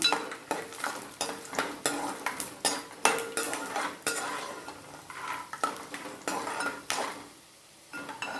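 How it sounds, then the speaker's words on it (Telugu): Peanuts roasting in a pan are stirred briskly, giving a rhythmic series of close metallic scrapes and clinks of the spoon against the pan over a faint sizzle. "పల్లీలు దోరగా వేయించేసుకొని పక్కన పెట్టేసుకుందాం"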